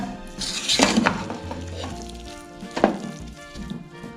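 Seasoned rice being stirred in an electric rice cooker pot, close scraping and sizzling with a few sharp utensil knocks against the pot, no speech.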